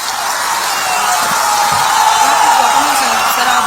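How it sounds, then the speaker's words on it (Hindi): Crowd at a political stage event in India applauding and cheering for Rekha, a dense continuous wash of clapping and whoops, loud and sustained throughout. "भाई रेखा दीदी के लिए जोर से ताली बजाओ जरा।"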